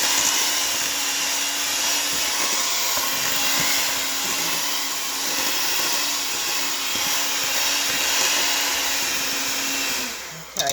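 An electric mixer whirs steadily as vanilla is mixed into cake batter. The motor drones loud and continuous for about ten seconds before stopping.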